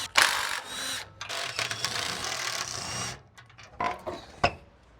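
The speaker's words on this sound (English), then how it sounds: "While the oil's draining, I'm gonna take this skid plate off." Power tool zipping bolts off a Toyota skid plate during an oil change, several short bursts of whirring with clicks and clanks between, fairly close and moderate in loudness.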